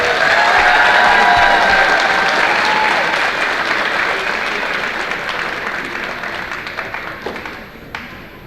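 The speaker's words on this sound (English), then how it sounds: "how about a nice round of applause for our three seniors, AJ Roberts, Hunter McCluggage, and Cole Porter" A gym crowd at a high school wrestling meet gives loud applause and some cheers for three senior wrestlers, heavy clapping at first that gradually thins and fades into scattered claps.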